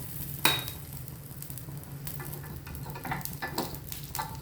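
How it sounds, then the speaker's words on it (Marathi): Oil is added to a yellow moong dal dosa in a pan after the lid comes off, bringing a quiet, steady sizzle with a sharp tap at the start and faint crackles and utensil scrapes, close by, with no voices. "आता मी झाकण उघडते आणि थोडं तेल घालणार आहे असं"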